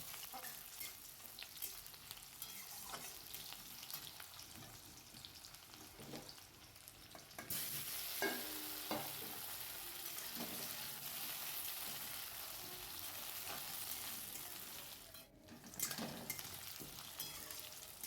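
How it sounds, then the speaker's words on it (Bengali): Steady sizzling of a small chopped onion frying in hot oil, continuous crackle with occasional stirring scrapes, growing louder partway through; no voices. "ছোট একটা পেঁয়াজ আমি তেলের মধ্যে দিয়ে নিলাম। এবার এটা একটুখানি হালকা ভাজা হলে"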